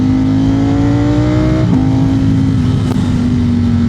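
A Ducati Streetfighter V4 motorcycle rides in sport mode with traction control at level 4, a loud steady engine drone with a brief pitch dip partway through, heard close over rushing wind.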